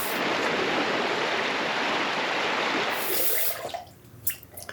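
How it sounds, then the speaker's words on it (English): Water running from a tap while rinsing off after a shave, a steady rushing splash for about three seconds, then cutting off into a few soft drips and small sounds. "We're gonna rinse off here real quick."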